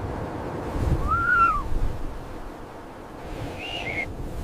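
A snowy owl gives two short, whistled calls, the first arching up and down and the second a bit higher, both standing out over a low, steady outdoor rumble.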